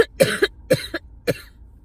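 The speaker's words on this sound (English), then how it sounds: "My chronic cough is acting up." Four harsh, close coughs in quick bursts, the first two closely paired and the last set apart, from a person with a chronic cough.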